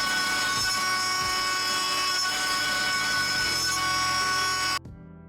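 A CNC machine mills Purpleheart wood for a mallet, a loud, steady, strained grinding whine with heavy tonal hum and wavering load that runs continuously, then cuts off abruptly near the end, leaving faint residual noise.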